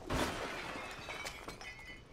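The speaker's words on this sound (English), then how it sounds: "Breaking glass." Glass shatters loudly at the start during a game shootout, followed by scattered tinkling shards and debris settling over the next couple of seconds.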